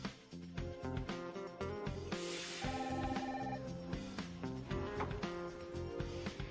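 A hotel front desk telephone rings steadily and fairly loudly in a busy, musical-sounding ring pattern that continues with no talking.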